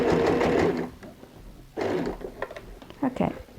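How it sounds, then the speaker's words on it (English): A sewing machine running a stay stitch on a fabric handbag, with close rapid mechanical whirring in two short bursts separated by a pause, followed by lighter clicks and handling sounds. "just go ahead and do a stay stitch so it stays in place"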